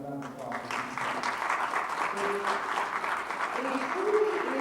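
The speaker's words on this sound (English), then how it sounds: "Let's give all of them a round of applause." An audience at a high school induction ceremony applauds, steady clapping that swells slightly toward the end, with a voice speaking over it at the start.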